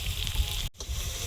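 Onion, green chili and ginger-garlic paste frying in oil while chicken cooks, a dense close sizzle cut by a brief gap of near silence midway, then resuming.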